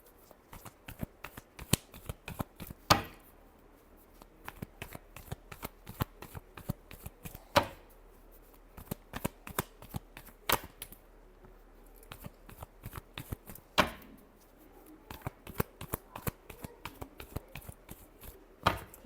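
Tarot or playing cards being shuffled by hand during a Scorpio weekly horoscope reading, a steady run of close, crisp riffling clicks and taps with brief pauses, no talking.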